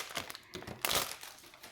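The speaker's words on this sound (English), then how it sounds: "I'll finish with the rustling." Plastic craft packaging rustling and crinkling close up in quick soft bursts, with a louder crackle in the middle, fairly quiet overall and no talking.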